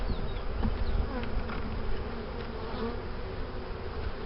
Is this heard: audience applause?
no